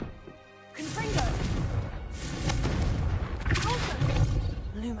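The Confringo blasting spell fires in Hogwarts Legacy, with repeated booming, crackling bursts and whooshes forming a loud, busy wash, mixed with voices and game noise.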